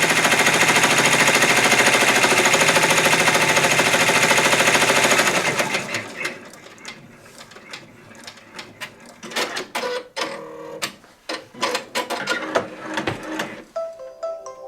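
A Brother or BabyLock multi-needle embroidery machine stitching an appliqué project runs loud and steady with dense rapid needle strikes, then drops to irregular clicks, clatters and mechanical movements as it slows and stops.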